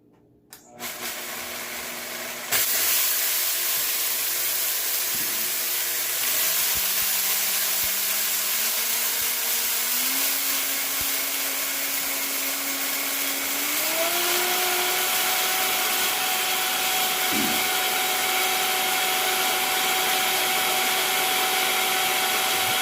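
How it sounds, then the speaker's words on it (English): A Vitamix blender pulverizes brown rice into powder, starting with a rattle of grains and then a loud, sustained motor whine that steps up in pitch as speed increases, running alone without talk. "I'm just going to pour some brown rice into my Vitamix blender here"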